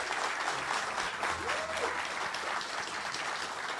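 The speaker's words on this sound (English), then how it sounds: "Ladies and gentlemen, please give a round of applause for Jen Chan" Sustained audience applause at a gaming convention stage event for an MMO fan festival, a steady dense clapping wash held at even loudness throughout, with no talk over it.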